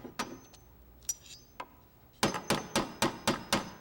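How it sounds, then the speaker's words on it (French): A hammer bangs in a cartoon: a few scattered taps, then a quick steady run of six sharp, evenly spaced strikes, close and alone. "Est-ce que c'était le bruit de mon marteau?"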